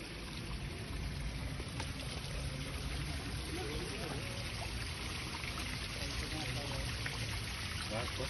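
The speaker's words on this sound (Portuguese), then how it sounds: "Primeira gravação, cachoeira." A waterfall roars as a steady, dense wash of rushing water that fills the whole recording without pause, captured as field sound for an animation.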